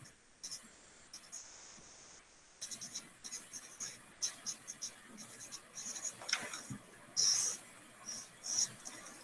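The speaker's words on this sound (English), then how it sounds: "write the effect in a box on the right-hand side of the page" Pen strokes scratch across a paper page in short bursts while a cause and effect fishbone diagram is drawn, close and fairly quiet, with brief pauses between strokes.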